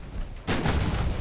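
Warship main guns firing in the naval video game Ultimate Admiral: Dreadnoughts: after a low, quiet background, a single sudden, loud, deep blast with a rumbling tail, alone and without talking.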